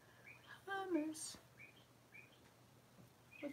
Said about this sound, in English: A bird in the house.